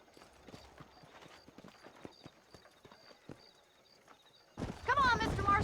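Horse hooves clip-clopping in the Red Dead Redemption video game, a steady walking rhythm with a whinny, followed by a burst of louder sound near the end. A voice is present.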